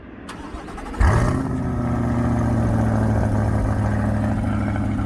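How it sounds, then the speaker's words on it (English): A Chevrolet Corvette C8 Z51 engine with factory exhaust, already warm, cranks and catches with a sharp burst, then settles into a steady, deep exhaust rumble at idle. "Now this is a factory exhaust, and I'm gonna start it up."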